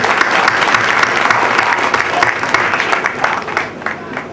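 Audience at a family gathering event in Gorakhpur applauding for children being honoured, a dense, loud burst of many clapping hands that tapers slightly toward the end.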